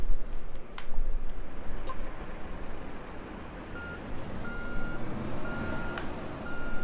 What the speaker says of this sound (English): let's back the truck up to it real quick